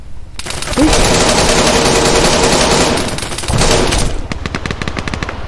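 Sustained automatic machine gun fire in the military shooter Arma 3, loud and dense with rapid bursts running almost continuously, a brief dip near the end before scattered final shots trail off.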